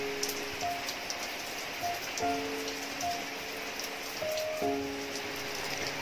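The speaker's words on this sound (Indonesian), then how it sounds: "Hari ini lagi hujan" Steady rain falling, a soft continuous patter heard indoors, with faint tonal beeps and a few light knocks over it, no talking.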